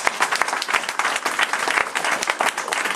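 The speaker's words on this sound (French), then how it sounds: "on peut t'applaudir très très fort" An audience applauds warmly after a talk, dense steady clapping from many hands throughout, fairly close and loud, with no voices standing out.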